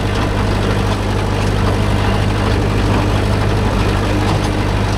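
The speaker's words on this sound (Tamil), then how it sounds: "நீ ரொட்டேட்டர் பின்னாடி தூக்கும் போது தான் லைட்டாக இன்ஜின் கொஞ்சம் வேகமாக ஓடுற மாதிரி இருக்குது." A Kubota MU4501 45 hp tractor runs with a 42-blade rotavator in a coconut grove, a steady low diesel drone with a constant hum, loud and close throughout without talk.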